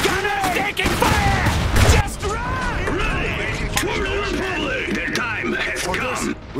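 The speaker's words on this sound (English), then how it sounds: "They're shooting at us!" Gunfire and explosions in the real-time strategy game Iron Harvest crackle in dense, continuous bursts, with unit voices and battlefield clatter mixed in throughout.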